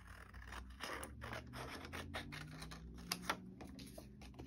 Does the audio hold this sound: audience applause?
no